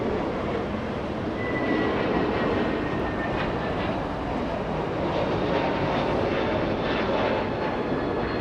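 A Delta jet departs Los Angeles International Airport bound for Orlando, its steady broadband engine roar sustained at moderate distance throughout, with a faint high whine riding above the rumble.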